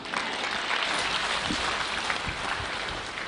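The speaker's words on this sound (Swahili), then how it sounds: "Tumpongeze rais tena kwa makofi." A crowd at a burial service applauds President Ruto, a dense, even wash of many hands clapping at a distance, sustained throughout without a break.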